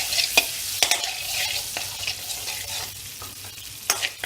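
Butter sizzling and frying in an already hot pan over a medium flame, a close crackling hiss broken by sharp stirring clicks and scrapes.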